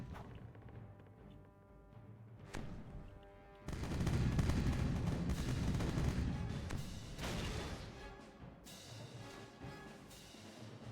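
Deep booming cannon blasts and rumbling explosions roll through the Age of Pirates game soundscape during a fort siege, with a heavy barrage swelling midway before easing into continued distant firing.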